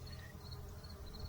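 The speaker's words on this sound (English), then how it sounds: "There's a bee that fell into some honey." A honeybee at a beekeeping operation gives a low, steady buzz, faint and close, alone with no talk.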